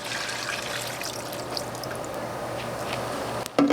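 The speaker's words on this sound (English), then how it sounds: "we're just going to add our beef broth that we have here" Beef broth, 32 ounces, being poured into a slow cooker for a beef pot roast: a steady trickling liquid stream running for a few seconds, moderately loud and close, ending with a brief clunk.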